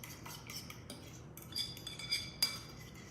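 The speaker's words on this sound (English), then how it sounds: "just give those a stir" A utensil stirs food in a home-kitchen pot, with soft scraping and scattered metallic clinks against the side, growing a little louder near the end with one sharp tap.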